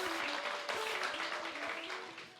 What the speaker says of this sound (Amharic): የመጨረሻ አጨብጭቡ ለእግዚአብሔር መንፈስ።